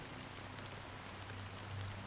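Soft, steady rainfall from the video game Honkai: Star Rail forms a faint, even hiss with a low rumbling undertone throughout, without any voices.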